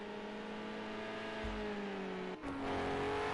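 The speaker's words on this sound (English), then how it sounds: "all the cars are out on circuit now" Race cars on the circuit at Imola, among them Renault Meganes, Renault SR1s and older historic cars, with a steady engine drone and rising revs as a car passes close by partway through.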